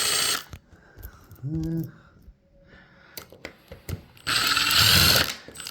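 Security Torx screws being worked out of an Ultion front door lock with a ratcheting driver, giving short clicking bursts and scraping handling noise, with a brief spoken word and a loud rustle near the end.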